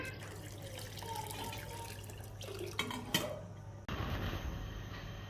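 Water from a tap runs steadily into a pot holding tamarind and dried apricots for a tamarind and apricot chutney, a continuous close splashing and trickling with a brief clatter near the end and no talk.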